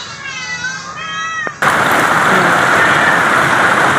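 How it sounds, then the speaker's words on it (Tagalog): Heavy rain pours down on farmland, bursting in as a loud, dense, steady hiss after a cat meows several times against a quieter background. "Lakas na po ng ulan dun oh."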